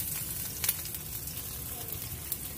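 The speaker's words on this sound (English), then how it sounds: "Close these up and make sure they fry up nice and toasty." Birria tacos fry in a pan with a soft, steady sizzle and crackle, punctuated by a couple of brief sharper spatters or scrapes, fairly quiet throughout.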